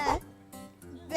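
Person voicing a sheep bleat, a couple of wavering, nasal baa sounds close to the microphone, the voice mimicking the animal.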